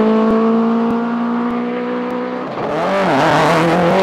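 Hillclimb race car sliding through the S-bends at Shelsley Walsh, a loud close engine note holding steady then dropping and rising again as the car slides and powers out, no voices.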